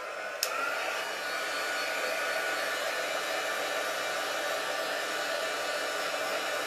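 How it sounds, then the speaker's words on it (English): A heat tool drying stamped Versamark ink for gold leaf embellishment blows in a steady, loud whoosh of hot air, running unbroken for several seconds after a brief click at the start. "just dry the ink a little bit with my heat tool"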